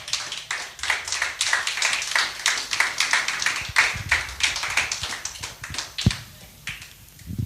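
Church congregation clapping rhythmically and steadily in unison, a dense run of sharp claps filling the room, with a few scattered voices and shouts of acclaim mixed in.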